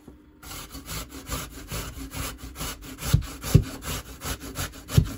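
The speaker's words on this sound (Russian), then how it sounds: "И я его натру на мелкой терке." Zucchini flesh rubbed against a fine metal grater in a kitchen, giving a steady run of rhythmic rasping strokes with a few sharper scrapes, close up and fairly quiet, with no talking.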